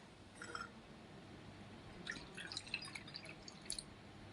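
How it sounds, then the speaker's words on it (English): Tea poured into a cup, heard as faint, scattered small drips and liquid splashes spread over a few seconds, very quiet with a soft background hiss. "So let's pour a cup of tea."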